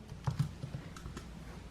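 Quick, light taps on a computer keyboard, a short soft burst of keystrokes heard fairly close and faint.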